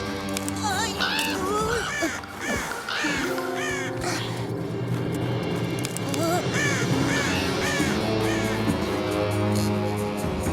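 Crows caw repeatedly and loudly in a cartoon about wolves, their harsh calls overlapping in a dense, continuous racket over a music track.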